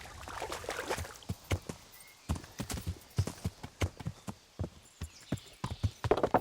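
Steady clip-clop of horse hooves trotting in Kingdom Come: Deliverance, a fast, close, irregular run of sharp hoof strikes with a light watery trickle behind them and no talking.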